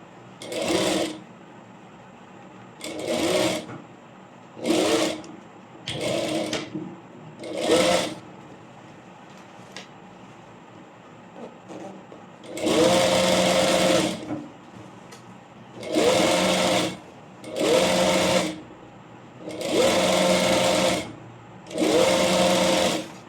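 A sewing machine stitches a plain frock in a tailoring lesson, running in about ten bursts of whirring mechanical chatter, some short and some several seconds long, with quiet pauses between them.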